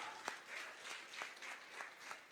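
Faint, scattered clapping from a church congregation, a few distinct hand claps standing out over a soft, thin background of applause.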